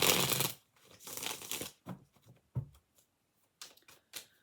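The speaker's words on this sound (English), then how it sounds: "let's give this a good shuffle up a minute." Tarot cards being shuffled up close: a couple of longer riffling bursts followed by shorter, scattered flicks and taps, with quiet gaps between.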